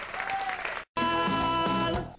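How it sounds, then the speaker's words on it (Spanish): An audience applauds at a thank-you event for a music programme, with steady clapping that stops briefly and then resumes strongly, while a tonal musical sound runs underneath. "fuerte el aplauso, por favor"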